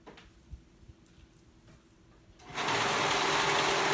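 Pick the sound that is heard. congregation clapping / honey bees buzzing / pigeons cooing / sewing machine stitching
sewing machine stitching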